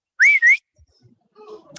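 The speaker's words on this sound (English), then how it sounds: "Pete's dad blew a whistle" A whistle is blown in two sharp, loud bursts close by, followed by faint scattered background noise on a construction site.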